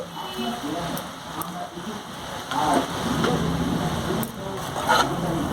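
Spice paste for a spicy Bengali egg curry fries on low heat in a pan, giving a steady close sizzle and crackle with a few sharper pops, while a voice talks over it.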